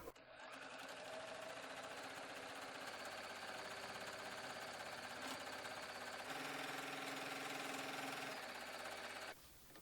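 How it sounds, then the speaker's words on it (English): A sewing machine runs continuously for nearly ten seconds, stitching along the raw edge of fabric for a ruffled skirt, a loud, steady mechanical whir with a slight shift in pitch partway through before stopping. "So I want you to stitch down this entire length, the raw side of the fabric."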